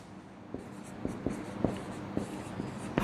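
Chalk writing on a classroom blackboard during a maths lesson, a steady run of short tapping and scraping strokes close by, with no talking over it.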